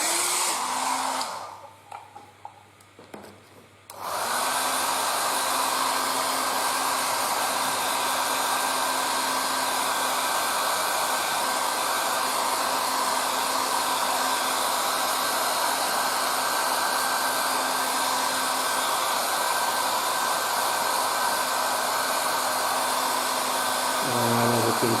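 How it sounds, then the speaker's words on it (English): Compressed air blows steadily over a part on a workbench after a brief lull, a loud, continuous hiss that runs for many seconds. "Now let's air dry this part."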